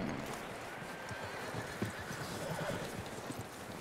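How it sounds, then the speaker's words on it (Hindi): A horse in the Red Dead Redemption 2 video game clip-clops at a steady walking pace, soft and fairly faint, with a brief whinny partway through. "That looks like a decent horse."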